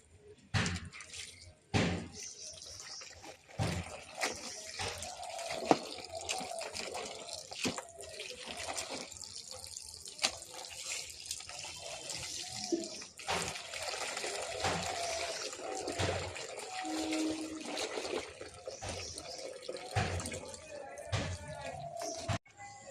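Clothes washed by hand in water at a rural home, with irregular splashes, drips and slaps of wet fabric against a surface, close and fairly quiet, occasional thumps and faint voices in the background.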